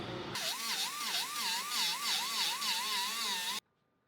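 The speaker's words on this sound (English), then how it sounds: "I'm going to take a little die grinder here, clean that up so we can make sure and have a good connection" A small die grinder scrubs bare a chassis ground spot on a Chevrolet C10 truck during a fuel tank install. It runs as a steady, high, whining buzz with a wavering pitch for about three seconds, loud and close, then cuts off abruptly.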